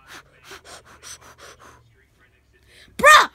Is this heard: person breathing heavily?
yes